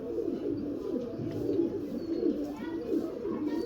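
Pigeons cooing close by in soft, repeated low throaty phrases, with a faint chirp or two in the background.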